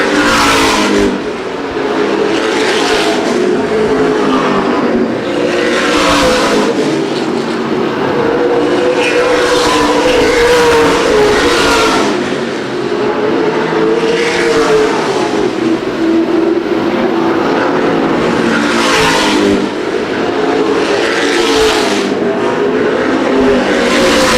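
Late model stock cars race around Winchester Speedway, a loud continuous engine roar with repeated swells as cars pass close by lap after lap, the pack droning steadily throughout.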